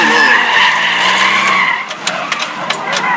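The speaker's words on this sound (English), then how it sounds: "Hammering on the brakes," Bomber-class race car braking hard at Thunder Valley Speedway, tires skidding and squealing in a loud sustained screech that fades into scattered engine and crowd noise.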